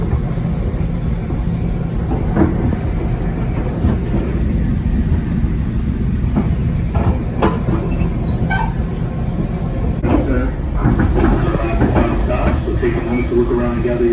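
A Coaster commuter train pulls into Oceanside station, a loud steady rumble of rail cars with wheel squeals and clanks, heard from on board under a public-address announcement.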